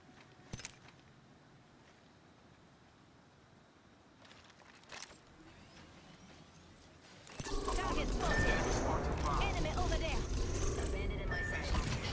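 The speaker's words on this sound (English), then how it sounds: "There's a care package coming down." A care package dropping in the battle royale game Apex Legends: quiet game ambience with a few clicks, then a sudden loud rushing, whooshing descent that holds at high level to the end.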